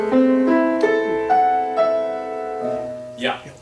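Opening bar of the first song of Schumann's Dichterliebe, played alone on piano: a handful of separate notes struck one after another, close and clear, each left ringing, with a brighter final note.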